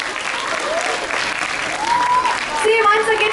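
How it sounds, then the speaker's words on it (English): Students and teachers at a school interclass patriotic quiz competition give a round of applause, loud continuous clapping from a crowd, with a voice talking over it and cheers rising toward the end. "So one more huge round of applause."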